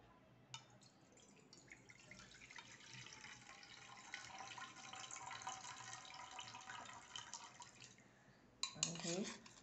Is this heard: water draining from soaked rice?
yes